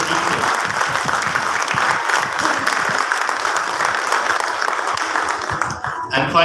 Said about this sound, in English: So let's give a good round of applause to all the teachers.